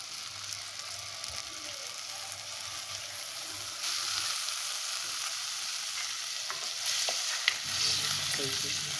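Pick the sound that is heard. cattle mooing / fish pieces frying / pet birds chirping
fish pieces frying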